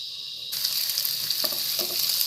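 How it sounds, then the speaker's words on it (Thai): Minced pork sizzles loudly in a hot pan for a Thai-style minced pork omelette, a steady bright frying hiss swelling suddenly as the meat goes in, with a few soft stirring scrapes near the end. "ผัดหมู ให้พอ ให้พอสุกนะคะ"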